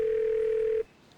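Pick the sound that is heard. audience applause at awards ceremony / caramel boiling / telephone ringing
telephone ringing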